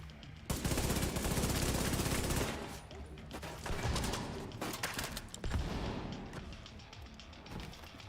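Gunfire bursts in a shooter game, a dense loud volley at the start followed by several shorter staccato bursts and single cracks, with background game noise throughout.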